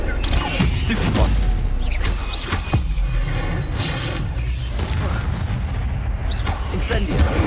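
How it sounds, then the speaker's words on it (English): Stupefy spell cast repeatedly in Hogwarts Legacy, heard as loud booming magical impacts and bursts that recur throughout amid dense combat noise, with a voice speaking over the fight. "Stupefy."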